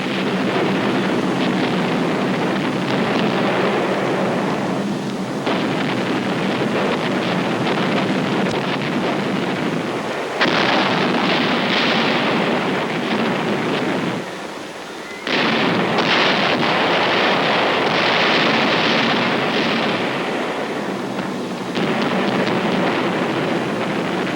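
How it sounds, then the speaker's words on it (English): Aerial bombing of the Monte Cassino abbey sounds as a continuous, dense roar of blasts and rumbling, loud and sustained, dipping briefly twice before surging again. "In 4 hours, 500 tons of bombs were dropped to level the abbey."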